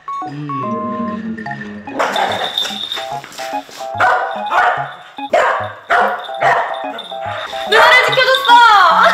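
A corgi at a horse-riding stable barks repeatedly in short, loud bursts, mixed in with people talking and cheering nearby.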